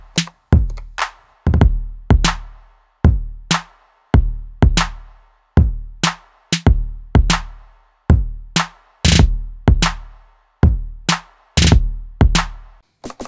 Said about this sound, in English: We have a little snare